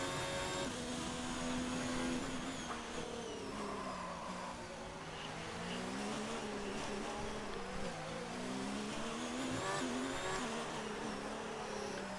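Race cars run in a wet race at Mexico in the F1 2019 game, their engines droning steadily and whining through gear changes, loud and continuous with other cars nearby and no speech.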